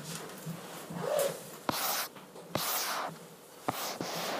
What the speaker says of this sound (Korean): 자, 그럼 다음 페이지 넘어갈게요.